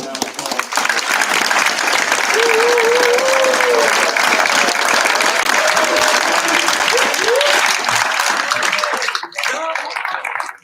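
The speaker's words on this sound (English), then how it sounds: "give all of them a round of applause." Sustained audience applause for honorees at a Gloucester Township council meeting fills the room, loud and steady for about nine seconds before fading, with scattered voices underneath.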